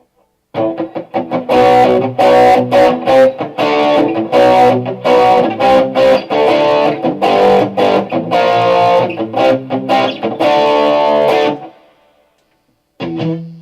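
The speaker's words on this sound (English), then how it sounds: "let's put some overdrive in there" Electric guitar through a Boss Katana Air amplifier with a gritty overdrive tone plays chords and riffs for about eleven seconds, then stops, followed by a short final strum.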